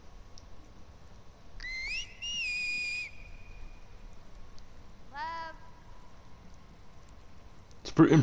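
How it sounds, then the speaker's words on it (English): A character in The Last of Us Part II video game gives a loud two-tone whistle, then a shorter rising whistle a few seconds later, set against quiet ambience with a voice at the end. "Pretty impressive whistle."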